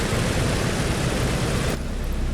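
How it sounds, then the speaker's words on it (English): Piston engines of a PMDG DC-6 airliner running in Microsoft Flight Simulator, a steady loud broadband roar that holds constant, with the upper hiss dropping away near the end and no talking. "We have engines running, providing power to the aircraft."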